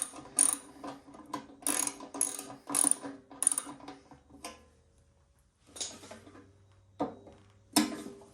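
Ratchet wrench clicking as it turns a 10mm socket while assembling a Champion wood shredder, several bursts of rapid close ticks separated by pauses, no talking.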